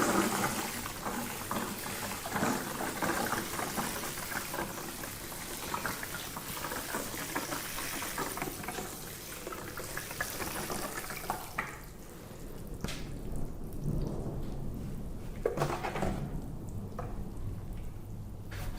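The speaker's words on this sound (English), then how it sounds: "we got our watering jug set up here to water inside today" Water pours from a watering jug onto trays of pea microgreens indoors. It runs as a steady splashing stream for most of the time, then thins into lighter, intermittent trickles near the end.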